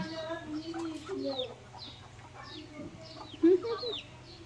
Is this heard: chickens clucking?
yes